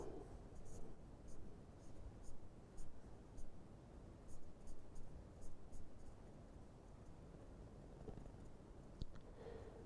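A pen drawing a tree during a lecture, scratching in short uneven strokes close up, fairly quiet against a steady hiss.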